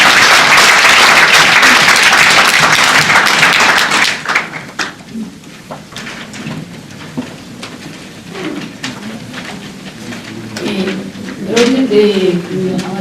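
A seminar audience gives a round of applause for a nervous presenter, loud and dense for about four seconds before thinning into scattered claps, followed by quieter room sound and someone speaking near the end.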